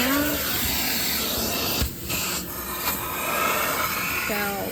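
A carpet-cleaning extractor machine runs with a loud, steady whooshing roar, a few brief dips and scraping rubs breaking through, and a faint tonal whine near the end.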